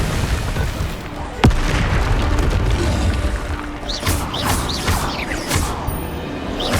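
Bombarda and Confringo spells exploding in Hogwarts Legacy, with a sharp loud blast near the start followed by rumbling booms and crackling impacts over continuous dense battle noise.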